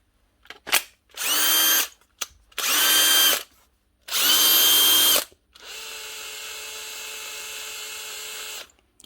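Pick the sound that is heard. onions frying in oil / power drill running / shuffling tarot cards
power drill running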